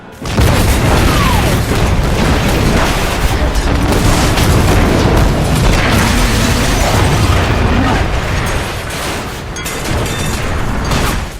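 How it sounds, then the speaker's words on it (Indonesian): A fuel station explosion: a huge, loud blast erupts and roars on continuously, a thick wall of rumbling blast noise that only eases slightly near the end. "menembak tempat pengisian bahan bakar yang menyebabkan ledakan besar terjadi"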